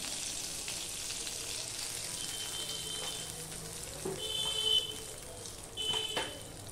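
Mustard oil heats in a pan with a steady close sizzle, joined by a few clinks and brief tonal beeps from the kitchen and a faint rise in crackle toward the end.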